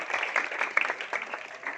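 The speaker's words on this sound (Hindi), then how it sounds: "जोरदार ताली बजाइए खुदा के जलाल की" A congregation at a monthly healing prayer meeting in Chandyala Kalan applauds together in a steady, even wash of clapping at moderate distance, holding for about two seconds.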